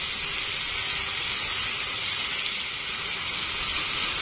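Tomato puree and chopped ginger hit a hot pan with a steady, loud hissing sizzle that holds evenly throughout, with no talking.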